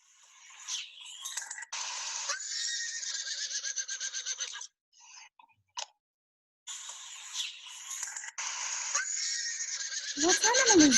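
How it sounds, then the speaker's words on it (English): A horse neighs in a farm-animal sound example, loud whinnying calls repeated in several bursts with short silences between them, ending in a rising, shaky whinny. "Horses make these sounds."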